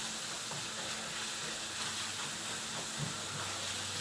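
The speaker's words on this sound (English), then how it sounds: "And so now my sausage has just started to brown a little bit." Sausage browns slowly in a pan over a low gas flame, giving a soft, steady sizzle with faint crackles and an occasional light scrape, close by, with no talk.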